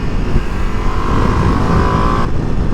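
Ducati Multistrada V2 motorcycle (2025) engine running hard under acceleration, a loud continuous close-up roar with a rising tone and a short break near the end like a quick-shifted gear change.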